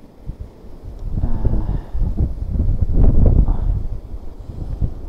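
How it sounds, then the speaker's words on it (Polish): Strong outdoor gusts at a fishing spot buffet the microphone, producing a low, rumbling roar that rises and falls, loudest toward the middle, with no talking. "strasznie wieje"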